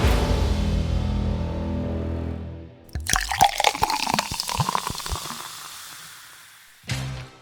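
Water is poured into a drinking glass at close range, a bubbling, gurgling trickle that runs for several seconds after a steady hiss, then stops.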